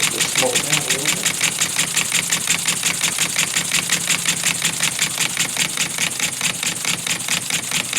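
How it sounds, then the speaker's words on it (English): A wooden grasshopper beam engine, Elmer's #10, running slowly on low compressed air pressure, giving a loud, even, rapid mechanical chuffing and clatter beat throughout, with brief talk near the start. "we have the engine running. It's on like hardly any air pressure, and I kind of like running them slow"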